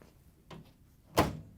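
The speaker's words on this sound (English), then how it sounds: "you can also close the microwave door." A GE microwave door swings shut with a soft tap followed by a single firm thunk close by, short and solid in a quiet room.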